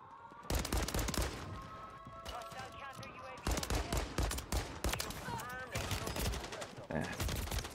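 Pistol gunfire in Warzone 3 on Rebirth Island comes as sharp shots in quick bursts over several seconds, with brief pauses between volleys. Voices talk over the shooting.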